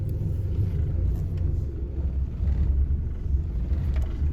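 A V10 Dodge Ram 3500 pickup pulls away in second gear, its engine giving a steady, loud low rumble that holds evenly throughout with no talking.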